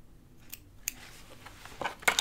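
Scissors snip a seam notch on a pair of jeans being sewn, a few quick, close, crisp clips in succession that grow louder toward the end, with no talking.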